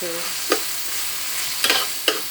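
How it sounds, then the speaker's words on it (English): A spoon stirs tomato paste into soup in a pot for Bahamian dumpling soup, with a few soft scraping strokes against the pot over a quiet simmering background. "stir it around, get it all blended in"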